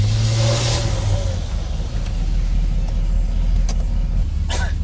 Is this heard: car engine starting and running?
yes